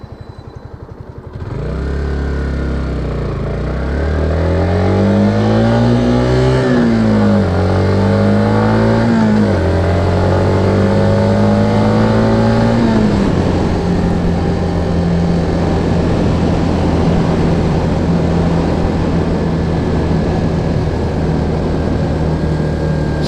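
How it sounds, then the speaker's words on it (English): A Suzuki GZ250 cruiser motorcycle engine braking, its steady drone dropping in pitch through several falling sweeps before settling into a lower, even rumble with wind noise, loud and close throughout. "this engine braking on this thing is intense"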